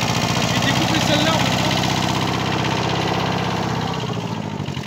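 A Kubota micro tractor engine runs loud and close while skidding large spruce logs through mud, a steady throbbing diesel drone that continues throughout, with voices faintly underneath.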